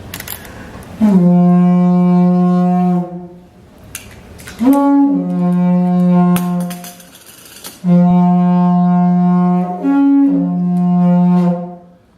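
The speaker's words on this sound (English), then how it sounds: "Yidiki tried to imitate the sound of the wind." Deep droning tones from a hollow log wind instrument at an Aboriginal show in Sydney, played in three long sustained blasts with brief breaks, loud and close.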